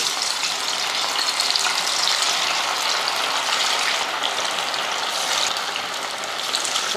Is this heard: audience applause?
no